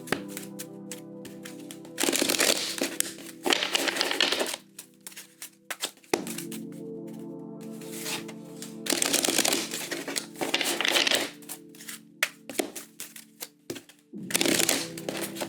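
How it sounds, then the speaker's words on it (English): A deck of tarot cards being shuffled by hand: several bursts of riffling and flicking separated by short pauses, close and crisp, with no talking. "we're going to do 3 shuffles and get into your energy for the weekend"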